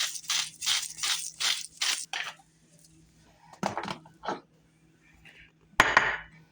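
A red pepper flake grinder is cranked over raw shrimp, giving a quick run of rhythmic ratcheting crunches that tapers into a few scattered, fainter clicks and knocks.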